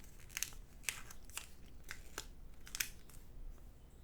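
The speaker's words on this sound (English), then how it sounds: "we're going to take this bottom side and fold it straight down" Origami paper being folded for a peas-in-a-pod model, with a series of quiet, sharp crinkling snaps and creases spaced irregularly across a faint background, close to the microphone.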